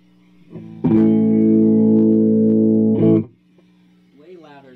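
An electric guitar on the bridge pickup plays a single sustained, distorted chord through a Motion Sound AR-112 Sidewinder rotary amp, ringing loudly for about two seconds before cutting off, with someone speaking briefly afterward.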